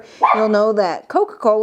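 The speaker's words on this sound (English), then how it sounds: "You can hear her barking in the background." A dog barks in the background, a few short yappy barks heard behind a man's speech and partly masked by it.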